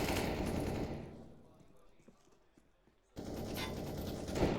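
Dense bursts of rapid gunfire ring out in a Counter-Strike match on Overpass at a pro esports event, loud at first, fading to near silence, then abruptly resuming in another heavy volley.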